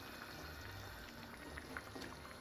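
Chicken stew with curry leaves bubbles gently in a pot, a faint, steady simmering burble with small pops scattered through, heard quietly and alone.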